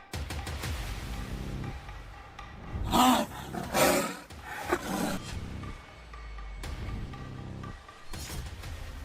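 A tigress roars in a series of loud, close, rough bursts in the middle of the stretch, with lower rumbling growls and ambient noise around them.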